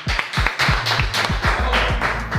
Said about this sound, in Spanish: recibimos con un aplauso al ex ministro de Economía